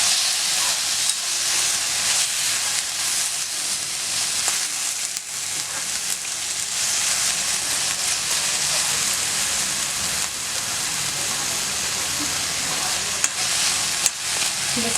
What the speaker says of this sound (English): let us fry the tomatoes as well in the medium flame